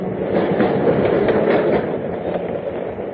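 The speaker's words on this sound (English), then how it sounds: "then took the subway home" A subway train runs along the rails with a steady, loud rumble and faint clatter throughout, no voices present.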